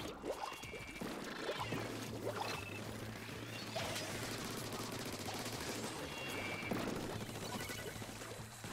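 Rapid streams of ink weapon fire in the Splatoon shooter game, a dense continuous spray of wet shots with splats and whooshes over a steady low game hum, loud and busy throughout.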